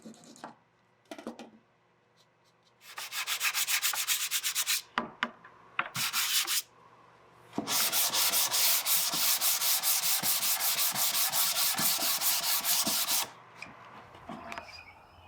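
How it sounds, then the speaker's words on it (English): 220-grit sandpaper rubs back and forth on the wood of an Aeolian harp in quick, rhythmic strokes, close and loud, in several bursts separated by brief pauses. "everything gets a final sanding with 220 sandpaper"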